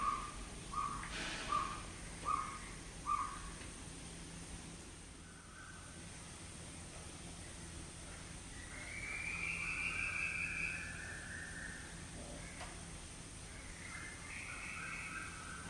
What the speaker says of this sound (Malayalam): ഇന്ന് രാവിലെ എഴുന്നേറ്റപ്പോൾ ഏതായാലും കിളികളുടെ ശബ്ദമൊക്കെ